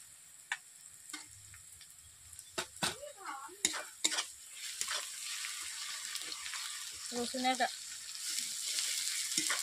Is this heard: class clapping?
no